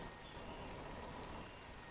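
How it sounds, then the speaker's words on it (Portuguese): Rain falling steadily in a dense, even patter, quiet and without voices, around a parked Scania truck. "Começou a chover, começou a cair água."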